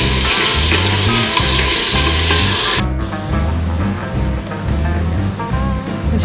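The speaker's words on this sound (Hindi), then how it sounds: "अब हम इसमें ये 2 प्याज डाल देंगे और हम इन्हें ब्राउन होने तक पकाएंगे।" Two chopped onions fry in hot oil for a hareesa dish, filling the clip with loud continuous sizzling, with a brief break and then a quieter, steady crackle.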